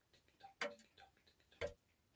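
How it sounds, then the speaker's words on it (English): A wall clock ticks in a slow, even rhythm, two sharp distinct ticks standing out close and clear against a quiet room. "It's double time to the wall clock. It's the one that's going tick-tock, tick-tock,"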